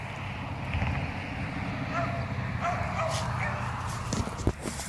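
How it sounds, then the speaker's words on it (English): Dogs bark faintly in the distance, a few yips carried over a steady low rumble of outdoor background noise. "You can hear the dogs barking at the house."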